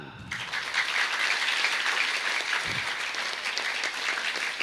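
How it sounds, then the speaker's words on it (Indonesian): Applause from a gathered audience following a Quran recitation, a steady dense wash of clapping that continues throughout without pause, with no voices over it. "Tepuk tangan"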